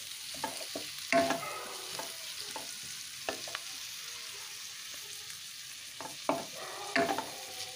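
Onion and whole garlic cloves frying in a pan, a low background sizzle broken by repeated scraping stir strokes in irregular bursts, close and fairly quiet with no talking.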